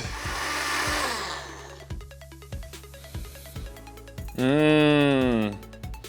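A kitchen blender whirring through ginger, garlic, salted krill and fish sauce for kimchi paste, a loud motor burst at the start and another near the end, separated by a rhythmic electronic beeping.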